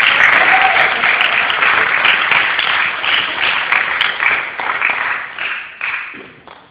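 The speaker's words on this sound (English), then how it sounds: "So let's give him a big round of applause, man." Warm audience applause for a high school jazz lab band at a festival at Humber College, a dense, loud wash of clapping that gradually thins and fades toward the end.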